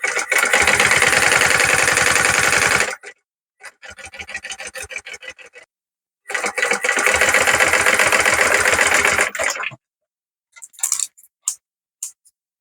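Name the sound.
sewing machine stitching a pocket edge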